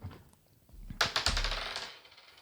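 A die is rolled on a hard surface, a quick burst of clattering taps that bounce and settle over about a second, close and fairly quiet.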